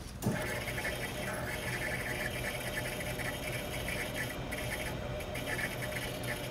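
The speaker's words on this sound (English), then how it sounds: "Fuel pump." The fuel pump of a supercharged Mazda RX-7 runs with a steady, continuous electric whine and buzz, holding an even level throughout with no breaks.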